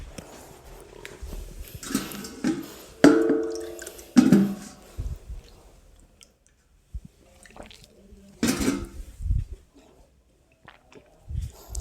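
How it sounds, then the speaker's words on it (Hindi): A man pauses from teaching a classroom-style lesson to sip water, with several soft gulps and small liquid sounds under faint room noise and brief murmurs. "मैं पानी पी लूँगा, थोड़ा सा पानी पी लूँ मैं"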